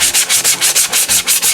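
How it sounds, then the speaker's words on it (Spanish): Steady back-and-forth rasping of sandpaper on a wooden sign, sanding over waxed areas to distress it, about nine even strokes in quick rhythm, close and loud with no voices. "y lijamos incidiendo por las zonas donde añadimos la cera."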